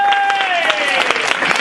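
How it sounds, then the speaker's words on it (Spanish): A church congregation at a Spanish-language year-end farewell service bursts into brief applause, a dense patter of many hands. A sustained musical tone sounds underneath. "un aplauso al Padre del Espíritu Santo"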